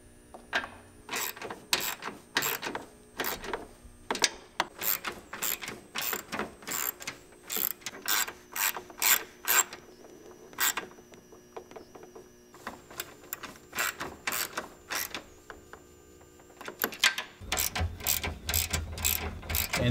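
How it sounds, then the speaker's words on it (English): Ratchet tightening radiator bolts on a Volvo 850, rapid bursts of sharp clicking repeated close up, with short pauses between strokes and a low clunk near the end. "it's time to start tightening all the bolts"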